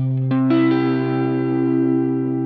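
Electric guitar strums a barre chord rooted on the sixth string, a single sustained chord ringing through distortion with chorus and echo, loud and alone, a brief scratchy pick attack just before the full strum.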